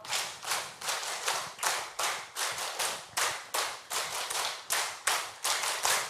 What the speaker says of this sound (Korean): 박수 20번 시작!